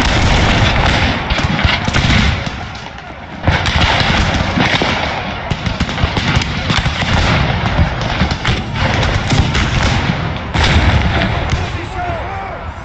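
Musket volleys and battle fire crackle loudly in Empire Total War at the Battle of Quebec, a dense, continuous barrage of close shots and thumps with brief dips, while a voice talks over it.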